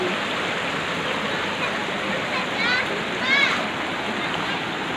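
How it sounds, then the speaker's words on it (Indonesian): Clear spring water pours and splashes steadily at an outdoor clothes-washing spot beside a spring-fed pool in Matai, Aceh Besar, a close, constant rushing wash with faint voices briefly rising in the background. "suasana tempat cuci baju di Matai"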